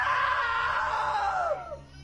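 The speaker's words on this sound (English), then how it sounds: "Now that was a great scream." A drawn-out, loud scream from the video game What Remains of Edith Finch rings alone for about two seconds, its pitch sliding downward before breaking off.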